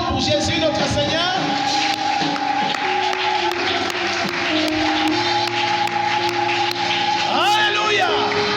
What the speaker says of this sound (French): Je vais entendre des acclamations pour Jésus notre Seigneur